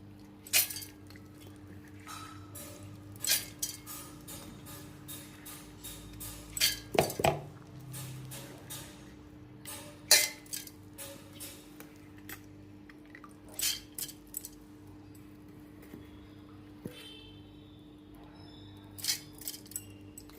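Finely chopped green chillies, ginger, coriander, garlic and cumin are mixed by hand in a bowl, with soft squishing under a quiet background and frequent sharp clinks of a spoon and dish rims, no one speaking.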